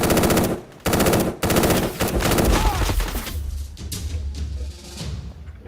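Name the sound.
fireworks popping outside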